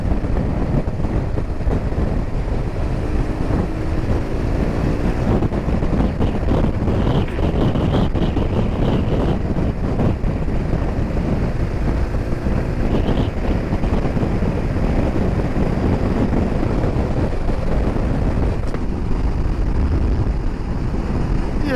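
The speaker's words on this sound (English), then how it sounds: "the wind can catch off guard in the old corners there" Strong wind buffets a microphone on a coastal road in Scotland, a loud continuous low roar with rushing gusts that never lets up.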